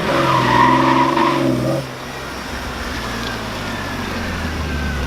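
BMW car accelerating hard in second gear, a loud, close engine roar with rising revs for nearly two seconds, then dropping to a steadier, quieter drone with faint tire noise.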